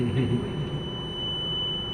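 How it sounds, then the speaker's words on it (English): The air pressure alarm buzzer in a New Flyer bus driver's area sounds as a steady, unbroken high tone, continuous for the whole two seconds over low cabin rumble. "You can tell because the alarm has gone off. At least in the new flyers."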